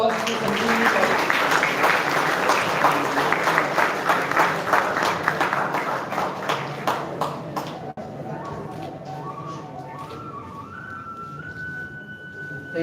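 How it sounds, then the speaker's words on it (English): An audience applauds for a student topper at a school felicitation ceremony, thick clapping for several seconds that thins out as a voice and a rising tone take over. "Give a big round of applause to Sanjeevani Patil."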